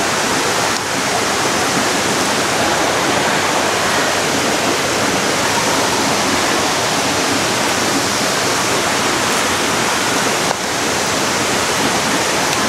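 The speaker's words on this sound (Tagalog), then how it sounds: "Ganda ng falls dito." Balagbag Falls roars in a loud, constant broadband wash of falling water, steady and close throughout with no speech.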